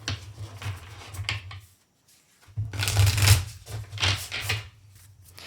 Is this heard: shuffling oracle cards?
yes